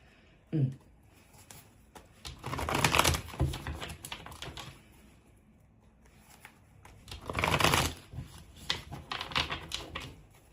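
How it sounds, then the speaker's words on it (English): Tarot cards are shuffled by hand in two long riffling bursts of rapid, close fluttering clicks, separated by quieter handling, with a soft tap at the start. "I need to reshuffle."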